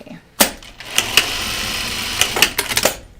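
A sewing machine top-stitches a fabric laundry basket, running in a steady mechanical whir between sharp clicks and clunks at start and stop, close and fairly loud.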